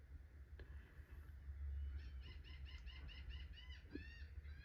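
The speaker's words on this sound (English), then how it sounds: "you heard the bird, right?" A bird gives a quick series of short, repeated chirping calls that rise and fall, fairly faint over a low background hum, with a few sharp clicks and no speech.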